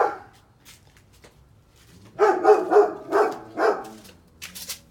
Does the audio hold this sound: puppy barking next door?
yes